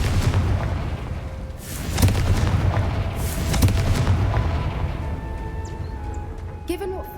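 A Hogwarts Legacy Confringo fire spell explodes in two booming bursts a second or so apart, each with a crackling tail, over continuous game ambience; a voice is also present.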